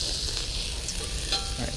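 Veggies and meat for Philly cheesesteaks fry on a griddle, a steady close hiss of sizzling with faint spatula scrapes and no talking.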